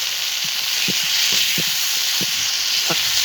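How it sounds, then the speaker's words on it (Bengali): Fish sizzling in a pan with blended coconut, a steady bright frying hiss with a few soft clinks and taps of stirring scattered through. "নারকেলের সঙ্গে ভালো করে আবার মাছগুলো ভেজে নেব"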